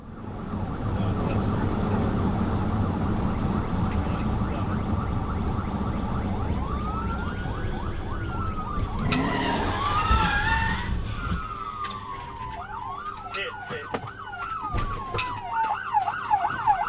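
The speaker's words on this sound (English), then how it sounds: "Trooper Byrd floored it and quickly closed the gap, locking back in on the pursuit" A police patrol car in pursuit races along with its engine roaring loud and close, then its siren wails and yelps in rising, falling sweeps over the road noise.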